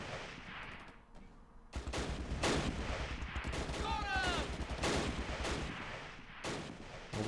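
Rapid, steady bursts from a Vickers machine gun in the wartime strategy game Close Combat, set at Arnhem, rattle on for several seconds at close range, with a few heavier explosions and some other game sounds mixed in.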